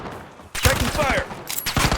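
Gunfire in Call of Duty Warzone, a battle royale match: a short loud burst of rapid shots breaks in after a quiet moment, followed by a second flurry, with a voice line heard amid the shooting.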